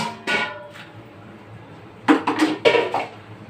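Dishes and pots being handled and put away during a kitchen cleanup, with a few soft clinks early on, then a loud burst of clattering ceramic and metal knocks close by, with no one talking.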